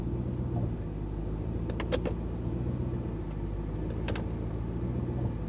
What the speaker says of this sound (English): So that was the rear bushing, I'm pretty sure.